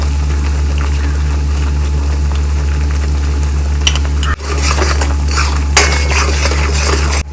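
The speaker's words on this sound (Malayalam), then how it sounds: "മുളക് പൊടി നമ്മൾ വിനാഗിരിക്കകത്ത് കുതിർത്ത് വെച്ചിരുന്നതാണ്. അതൊന്ന് പച്ചമണമൊക്കെ മാറി ഒന്ന് ചെറുതായിട്ടൊന്ന് മൂത്ത് വരട്ടെ." Chili powder soaked in vinegar frying in a pan for a spicy beef pickle, a loud close sizzle with a steady low hum underneath and a few clinks of a utensil against the pan partway through.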